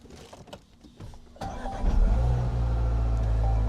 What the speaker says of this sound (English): the car now starts. The engine is running fine.